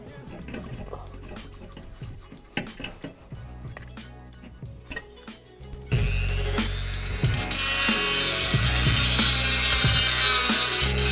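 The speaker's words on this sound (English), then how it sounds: "So I got the Dremel going now." A Dremel grinds rust out of a brake caliper hole on an EK Civic hatch. Scattered clanks and taps give way to a loud, sustained high whine of the rotary tool working close by.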